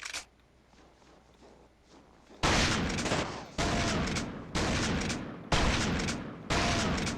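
A grenade launcher fires in The Thing video game, five heavy blasts in a row with roughly a second between them, loud and close, following a quieter stretch of game ambience.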